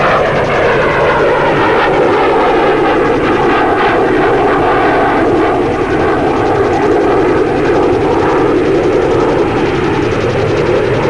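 Space Shuttle Columbia on mission STS-9 rolling out after touchdown, a loud, continuous broadband roar of aircraft-like engine and airflow noise with steady tonal bands, sustained throughout with no speech.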